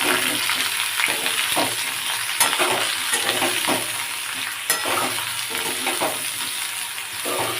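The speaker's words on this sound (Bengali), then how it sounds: "আলু ভাজা হয়ে এসেছে ফুলকপিটা আর পেঁয়াজটা ভাজা হয়ে গেলে পরবর্তী ইনগ্রিডিয়েন্টস দেবো" Potato, cauliflower and onion frying in a pan, a steady close sizzle broken by regular scraping knocks of a spoon stirring the vegetables, no speech.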